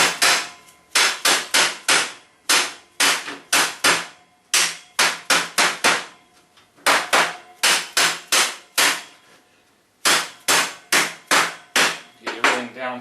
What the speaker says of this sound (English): Then I got my dead blow hammer.